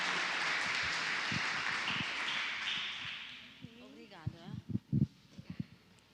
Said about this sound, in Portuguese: Quantos podem aplaudir o Senhor pela vida da pastora Irene?